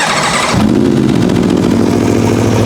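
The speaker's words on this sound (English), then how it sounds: "let the bike briefly run with the distilled water just to let it circulate through the system" A motorcycle engine runs with distilled water in the cooling system to circulate it. It fires up and then idles loudly and close in a steady low rumble.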